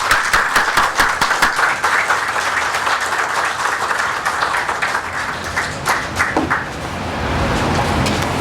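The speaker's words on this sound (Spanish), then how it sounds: "Recibamos con un fuerte aplauso a don Miguel Guerrero." An audience applauds steadily with dense clapping, loud at first and thinning slightly toward the end.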